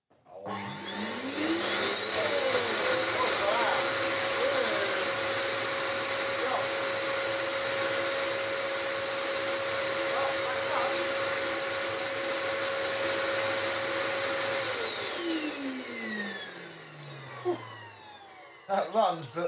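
An Electrolux Mondo Z1190e vacuum cleaner spins up to a loud, steady high-pitched whine, runs for around twelve seconds, then winds down, followed by a few brief clunks.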